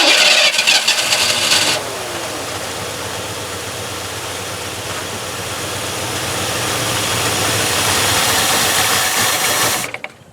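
A carbureted Ford Bronco engine cold starts with a brief loud cranking burst, then settles into a steady rough idle that swells slightly before cutting off abruptly as it stalls from a lean mixture, close and alone without talk.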